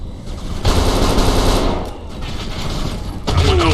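Rapid automatic gunfire and bursts of shots in the video game Kane & Lynch 2: Dog Days, loud and sustained throughout with a brief lull midway and a fresh burst near the end.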